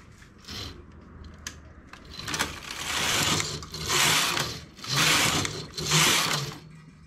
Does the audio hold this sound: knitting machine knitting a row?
yes